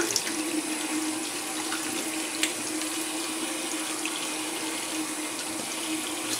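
Tap water runs steadily into a bathroom sink as a razor or face is rinsed after a shave, a continuous close splashing rush at even loudness throughout with no talk.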